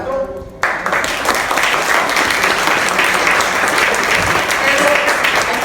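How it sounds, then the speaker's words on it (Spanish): Audience applause after a panel discussion on Mexican political cartoonists in Chicago: steady, dense clapping fills the room after a brief opening, continuing loudly for several seconds with a murmur of voices underneath. "Un aplauso primero a los cuatro."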